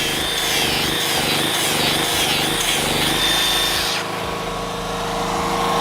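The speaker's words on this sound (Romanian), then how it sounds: "Cu polizorul la performanță maximă." An angle grinder runs at full power on a Daewoo GDK3600 3.3 kW portable generator, with a loud, high whine and grinding rasp, the pitch and texture shifting toward the end.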